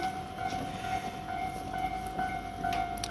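A train rumbles past a busy Tokyo railway crossing, with a steady mechanical hum and a sustained crossing-bell tone over the passing cars, heard close and continuous.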